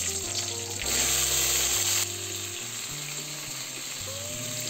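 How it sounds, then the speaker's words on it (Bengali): Chopped cauliflower and potato fry in oil seasoned with bay leaf and panch phoron, giving a steady, close sizzle that swells briefly near the start and then settles, with tonal background music underneath. "পাঁচফোড়নটা ভাজা হয়ে গেলে এর মধ্যে আমি দিয়ে দিচ্ছি কেটে রাখা সব সবজিগুলো।"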